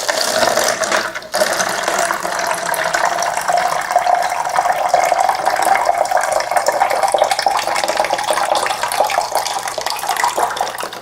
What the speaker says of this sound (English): I'll use this empty container to pour the water out.